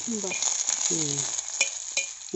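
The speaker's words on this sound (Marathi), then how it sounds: "आता हा कांदा किती वेळ भाजू दे?" Onion frying in oil, a steady close sizzle running throughout, with a few brief stirring clinks and short voiced sounds in the background.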